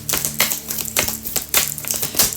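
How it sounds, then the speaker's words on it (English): A deck of tarot cards is shuffled by hand, a run of quick riffling clatters and taps that repeat in uneven bursts, close and fairly loud, with no talking. "Alright, last shuffle."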